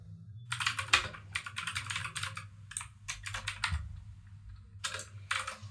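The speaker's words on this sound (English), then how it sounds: "So let me type the function first." Quick bursts of typing on a computer keyboard while entering Swift code, keys clattering close and fairly soft in irregular runs separated by short pauses, with no talking.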